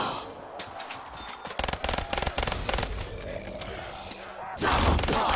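Rapid automatic gunfire in the Call of Duty zombies map Kino Der Toten crackles in dense bursts over several seconds, close and loud, followed by a louder rumbling effect at the end.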